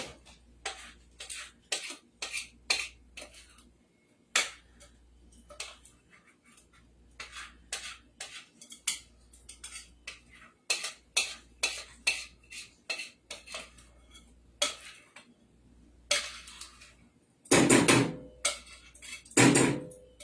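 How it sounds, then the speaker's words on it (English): Food goes into a cooking pan in a run of short, separate clinks and scrapes of utensil against dish, close and fairly sharp, with a louder cluster of clattering knocks toward the end and no talking. "Now I'm going to put that in our pan."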